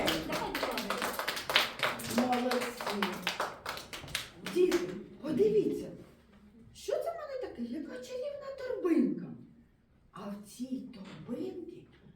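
Children at a New Year's tree party clap their hands in a quick burst of scattered, close claps, then someone speaks over the fading patter.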